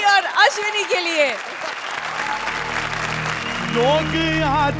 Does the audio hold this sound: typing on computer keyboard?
no